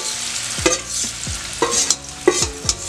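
Slices of elephant foot yam fry in hot oil with garlic while a spatula scrapes and turns them in the pan, giving four or five distinct clattering strokes over a low sizzle.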